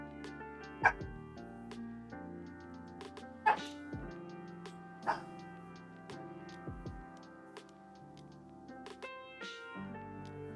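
A dog barks several times in sharp, separate bursts over background music in a room during a card-game stream, with faint whimpering yips between the louder barks.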